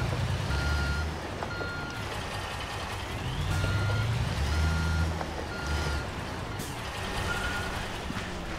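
Repeated reversing beeps sound from a dump truck in Construction Simulator, steady and evenly spaced over a continuous truck engine drone with faint mechanical clatter.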